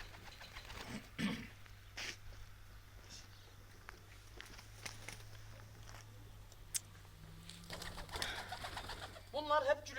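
Adana pigeons coo softly in a loft, low murmuring calls at close range with occasional wing and shuffling noises and a faint steady hum underneath.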